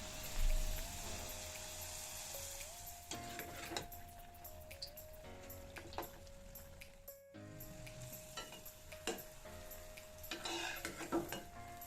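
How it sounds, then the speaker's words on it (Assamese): Steady sizzling of rice cakes frying in hot mustard oil, with occasional stirring and utensil clinks; a faint tonal hum runs underneath. "এনেকৈ এটা এটা কৰি এতিয়া পিঠাখিনি ভাজি যাম"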